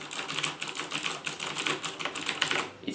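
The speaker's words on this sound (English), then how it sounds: "I beat my keys to no end, so when I'm typing, I'm like..." Fast typing on a Logitech G910 Orion Spark keyboard, a continuous run of clicky keystrokes at a brisk, uneven rhythm, heard up close without speech.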